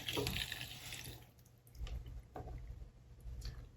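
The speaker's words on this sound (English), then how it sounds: "Opening this valve will allow water to drain from the water heater." Water drains from the bottom valve of an electric water heater, a soft, steady trickle and splashing that stays faint and close, with no talking.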